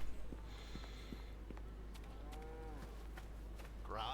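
A cow lowing in the fantasy video game Neverwinter Nights, a single low drawn-out moo heard faintly over a steady hum with a few soft clicks.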